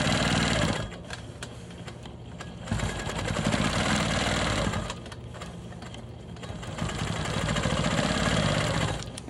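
Home sewing machine stitching around a small orange square on a star quilt block, its steady motor hum running in bursts that start and stop, close and loud, with no talking.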